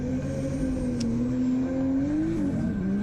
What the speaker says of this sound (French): Il vient nous montrer de quoi il est capable Enzo Suras dans cette BMW 30.